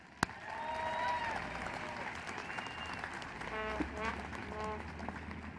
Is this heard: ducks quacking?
no